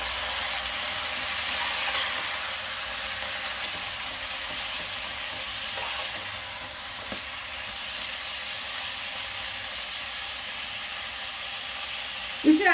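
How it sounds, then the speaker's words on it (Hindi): Chicken pieces dropped into onions fried in a pan for chicken stew, giving a steady close hiss and sizzle with occasional stirring clatters, loudest near the end. "इसमें मैं अब चिकन डाल दूंगी। और इसे चला दूंगी।"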